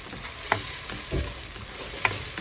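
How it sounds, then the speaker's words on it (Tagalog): Chicken breast sautés and sizzles in a pan with a steady hiss, while a utensil stirs it and gives a few sharp clinks against the pan, close up with nobody talking. "Tapos ilagay natin yung chicken, breast chicken. Ay, gisa lang natin."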